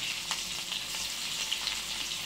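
Hing and garlic cloves fry in four to five ladles of hot oil, making a dense, even hiss that runs close and steady throughout, with no voices.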